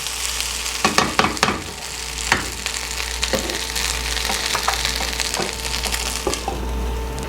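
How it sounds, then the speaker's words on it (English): Corn mutton sizzles steadily in a hot non-stick pan, with occasional sharp scrapes and clacks of a utensil stirring it; no one speaks. "while the corn mutton is frying"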